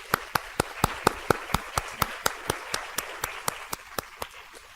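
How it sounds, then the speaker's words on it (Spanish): Steady, evenly spaced hand claps, about twenty in a row, sounding like a single clapper or a small group at a book presentation in a university medical faculty hall; crisp and fairly quiet, with no talk over them. "un aplauso, por favor"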